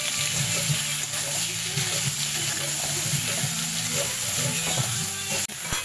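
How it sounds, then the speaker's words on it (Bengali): Steady sizzling of food frying with turmeric and salt in hot oil, with occasional stirring clinks, continuous throughout and fairly close. "হলুদ আর দেবো অল্প করে নুন দিয়ে ভালো করে তাকে ভেজে নেব"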